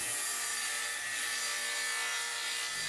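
Wood board being ripped into a 1.5 inch strip for a sandpaper jig base, giving a steady, continuous saw rasp with no break, close and even in level throughout.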